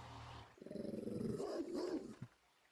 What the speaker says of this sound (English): You hear the dogs are out because I came close.